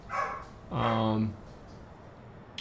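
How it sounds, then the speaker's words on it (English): Dog barking at home, two close, loud barks in quick succession, the second longer and more tonal, with a quiet background after. "Sorry, that's my dog barking."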